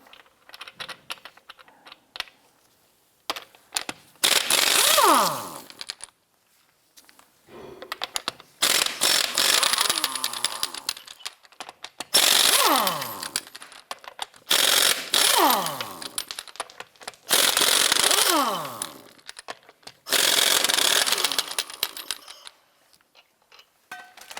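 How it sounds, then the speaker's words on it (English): An impact tool on a 2015-2020 Cadillac Escalade drives a 22mm socket against the lug nuts in loud repeated bursts of rattling hammering, each a second or two long, with whining spin-downs and short pauses between, up close without talk. "Using a 22mm socket, we're going to loosen and remove our lug nuts"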